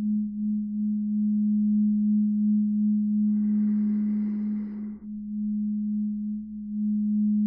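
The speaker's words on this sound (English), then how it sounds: "Listening to the sounds of the bowls, simply observing how they move through your body." Tibetan singing bowls ring during a guided breathwork meditation, a pure, sustained low tone that hums evenly throughout while a soft breathy swell rises and fades in the middle.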